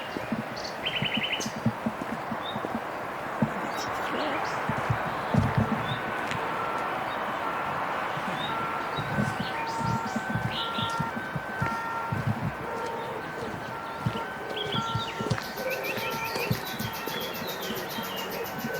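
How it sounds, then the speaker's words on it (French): Birds chirp and sing in scattered, fairly faint phrases over a soft outdoor background at the Fonseranes locks in Béziers, with occasional rustles and louder bursts of twittering toward the end. "C'est agréable, on entend les oiseaux."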